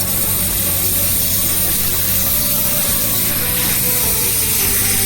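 An HVSF-mini portable SF6 gas recovery device runs with a loud, steady mechanical roar and broadband hiss, a constant drone with a low hum that does not let up.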